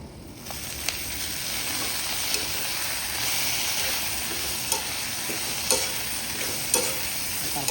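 Dried chilies and their seeds roasting in a little oil in a pan, a continuous soft crackling sizzle punctuated by a few sharp stirring taps, close by and without speech.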